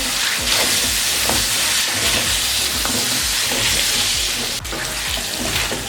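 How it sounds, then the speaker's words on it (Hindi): Chicken biryani ingredients fry in a pan with red chili powder and salt, giving a steady, loud, close sizzle and hiss with occasional stirring scrapes throughout. "अब अच्छे से 3 से 4 मिनट के लिए इसको भून लेंगे।"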